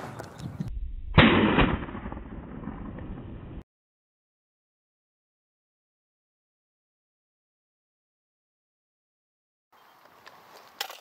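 UTAS XTR-12 rifle shots fired at bottles, heard as loud sharp blasts with a brief burst and noisy tail at the start, then silence, with faint shot noise returning near the end.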